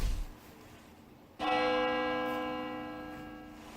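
Bell ringing in an animated show: a single loud, clear struck bell that rings out and slowly decays, following a brief low rumble, with no talk.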